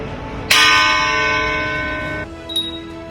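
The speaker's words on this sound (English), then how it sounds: "Step outside and ring a bell." A single bell strike rung for a VE Day 75th anniversary peace commemoration, a loud, clear ring that hangs with a long, slowly fading tone before cutting off, then a faint brief sound afterward.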